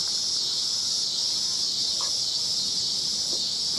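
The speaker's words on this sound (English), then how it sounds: "Cicadas are out in full force" Continuous loud insect drone of cicadas, a steady high-pitched buzz filling the whole stretch without pause.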